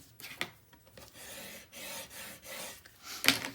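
Repeated strokes of a tool burnishing paper cardstock for a mini album page, a soft rhythmic rasping rub that swells and fades in several passes, with a sharper scrape near the end, close and alone.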